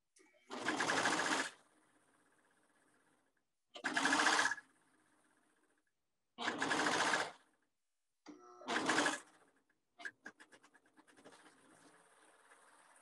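A serger stitches the seams of a boy's dress shirt in four short, fast whirring bursts separated by quiet pauses, followed by a few faint clicks and rustles of fabric.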